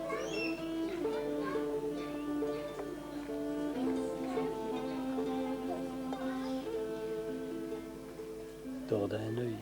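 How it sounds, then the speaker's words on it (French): A cat meows repeatedly in long, wavering calls, close and fairly clear, with a short voice breaking in near the end. "C'est un chat, dis donc."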